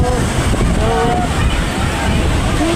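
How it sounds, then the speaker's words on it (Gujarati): Sea waves break steadily on a beach shore in a continuous loud rush, with wind buffeting the microphone and faint voices in the background. "દરિયો આપણે પણ મોજા ને મોજા મારે છે."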